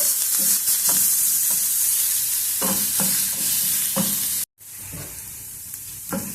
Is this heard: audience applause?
no